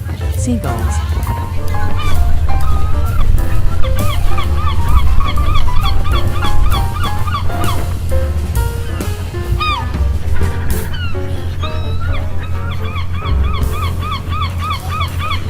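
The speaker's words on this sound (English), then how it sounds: "Seagulls." Many birds give repeated honking, squawking calls in a dense, loud, continuous chorus, with calls overlapping throughout.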